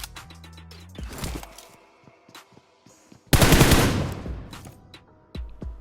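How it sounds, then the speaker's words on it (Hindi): M4 rifle gunfire in the mobile battle royale game BGMI, with rapid bursts of automatic shots, one long loud volley in the middle, and scattered sharp single cracks and game effects around it. "इस वाले बंदे पे M4 का शॉट्स लेने का ट्राई किया"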